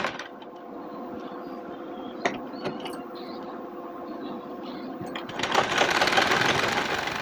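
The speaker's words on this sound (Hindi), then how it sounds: "तो चलिए दाब सिलाई लगा लेते हैं।" A sewing machine topstitches a puffed sleeve on a net blouse, whirring in a steady close run with a couple of sharp clicks, then speeding up louder near the end; no voices.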